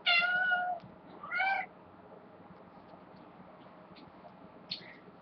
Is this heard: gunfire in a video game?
no